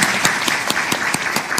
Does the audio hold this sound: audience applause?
yes